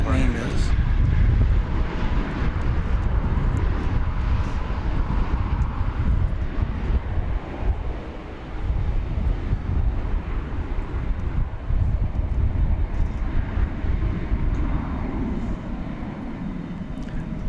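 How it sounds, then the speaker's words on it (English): A Boeing 787-9 Dreamliner on flight 128 from Shanghai touches down on a runway at DFW Airport, a loud, close engine roar with wind buffeting that swells, dips briefly midway, then continues steadily. "just touching down from Shanghai. 7879 Dreamliner."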